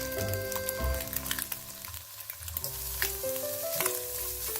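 Garlic sautéing in a pan with scrambled eggs while making fried noodles, a steady close sizzle with light stirring scrapes running throughout.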